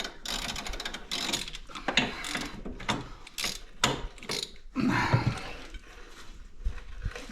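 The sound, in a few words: ratchet loosening a bolt on a Polaris Ranger 150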